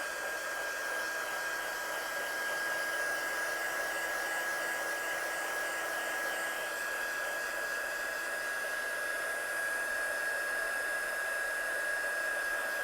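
A hair dryer blows steadily and unbroken at close range while drying the front of a wet envelope, a constant whooshing hum with a thin high whine running through it.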